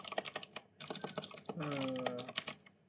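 Keyboard typing during data entry in a software engineering lesson, a quick run of clicky keystrokes in bursts, with a voice talking over part of it.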